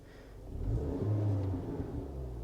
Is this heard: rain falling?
no